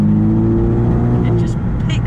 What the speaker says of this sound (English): Even the tone of the engine is nice.